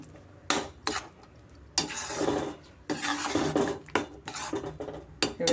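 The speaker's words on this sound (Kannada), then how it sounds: "ಚೆನ್ನಾಗಿ ಮಿಕ್ಸ್ ಮಾಡಿಕೊಟ್ಬಿಟ್ಟು ಮೀಡಿಯಮ್ ಫ್ಲೇಮಲ್ಲೇ ಸ್ವಲ್ಪ ರಾಸ್ ಮೇಲೆ ಹೋಗೋವರೆಗೂ ಚೆನ್ನಾಗಿ ನಾವು ಫ್ರೈ ಮಾಡ್ಕೊಳ್ಳೋಣ" Potato fry with chili powder, coriander powder, garam masala and cumin powder being stirred in a pan, irregular metallic scrapes and clinks of the spoon against the pan over a low sizzle.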